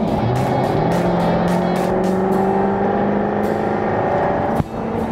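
Supercharged 5.0-litre V8 of a Jaguar F-Type R Coupe accelerating hard from inside the car, a loud steady engine drone climbing in pitch through the gears, with a sharp break near the end.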